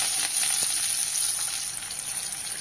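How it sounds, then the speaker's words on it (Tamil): Small onions sauté in a pan for a Tamil drumstick kara kulambu, a steady close hissing sizzle with faint stirring scrapes and no talking. "வெங்காயம் நல்லா வதக்கிக்கோங்க."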